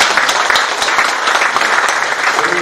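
A crowd claps loudly and continuously for reporters at a Buddhist order's election event, a dense, close ovation with no pauses and faint voices underneath.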